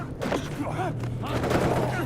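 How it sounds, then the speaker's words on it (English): A rapid burst of gunfire from the video game Metal Gear Solid 4 rattles off in quick succession, with voices talking over the shots. "Surely they wouldn't hear several gunshots."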